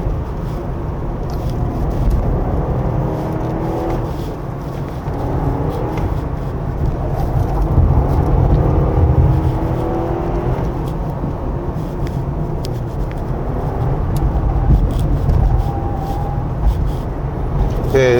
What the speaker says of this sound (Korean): 지금 엑셀을 다 밟은 건데요